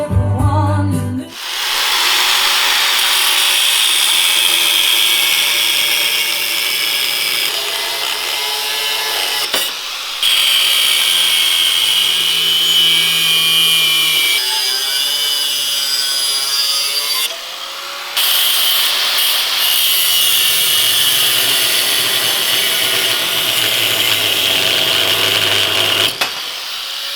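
A power grinder cuts continuously for nearly half a minute, a loud, steady, hissing whine with small shifts in pitch and a few brief pauses, close by in a workshop.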